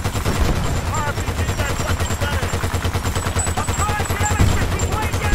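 Sustained automatic gunfire from the video game Battlefield: Bad Company 2 rattles on for several seconds, loud and dense, with rapid overlapping shots and a voice talking over the barrage.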